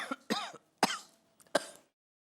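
A man coughs in a comedy sitcom scene, four short harsh bursts close to the mic with brief pauses between them, no talking.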